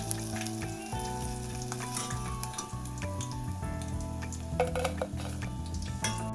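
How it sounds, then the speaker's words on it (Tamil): Eggplant deep-fries in hot oil with a steady, dense sizzle and crackle, joined by occasional clinks of a metal utensil against the pan; no one speaks. "இப்போ இந்த கத்திரிக்காய் பார்த்தீங்கன்னா நல்ல பொன்னிறமா பொரிஞ்சிட்டுது"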